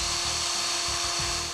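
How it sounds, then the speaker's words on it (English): A drill whines steadily with a sustained high pitch and a faint grinding underneath as it bores two small holes in a metal cam retainer plate for a Ford 460 engine, running continuously for a moment without talk. "drill two small holes into the cam retainer plate"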